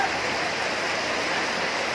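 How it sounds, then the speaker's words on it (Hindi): Heavy rain pours down in Chamba's main market while drain water floods into shops, a dense, continuous hiss of falling water and flowing runoff, loud and steady throughout. "ये देखिए चंबा में इतनी बरसात हो रही है, लोगों की दुकानों पे पानी घुस गया हुआ है"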